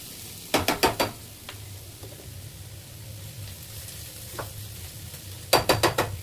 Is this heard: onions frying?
yes